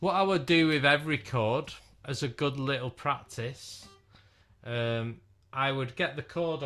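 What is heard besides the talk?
No everyday noises stand out.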